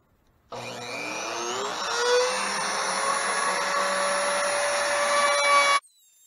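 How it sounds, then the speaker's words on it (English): A router cuts out the letter holes in a wooden sign, a steady high motor whine with a grinding cut. It starts abruptly, runs loud and close for about five seconds, then stops. No one speaks. "I'll take the router and go inside each of these lines and cut out each one of those holes"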